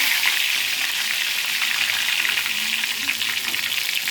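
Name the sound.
curry leaves sizzling in hot pan with chicken pakoda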